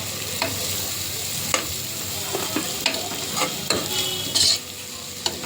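Small onions with garlic and salt sauté in a pan, giving a steady low sizzle broken by repeated scraping, clinking stirs from a spatula, close and moderately loud with no talking.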